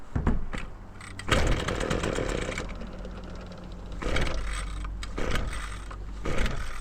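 A Toro Homelite Expand-it garden tool's small two-stroke engine is pull-started at full throttle, with several sharp rope-pull bursts and brief sputtering engine catches between quieter pauses.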